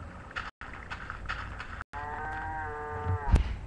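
In the video game Minecraft, a cow gives a single drawn-out low moo, loud and close, with faint game sounds before it and a short thump at the end.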